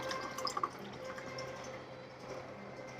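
Water is poured in while grinding husk, sugar candy and sago at home, heard as faint, close dripping and trickling with a few bright splashy plinks early on, over a quiet room background.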